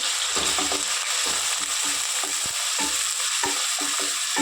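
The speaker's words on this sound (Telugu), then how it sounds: "ఒకసారి ఫ్రై చేసుకుందాం" Green chillies and onions frying in a pan while being stirred, a steady loud sizzle broken by repeated scraping, clicking strokes of a spoon against the pan.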